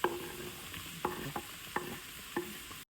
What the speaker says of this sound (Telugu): ఇప్పుడు మష్రూమ్ ముక్కలు వేసేస్తాం.